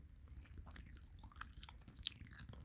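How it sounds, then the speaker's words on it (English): Extra long-lasting spearmint gum is chewed close to the mic with soft, wet, irregular chews and small crunchy clicks, quiet and intimate with no talking. "I'll be chewing some extra long-lasting flavor spearmint while we go through this magazine together."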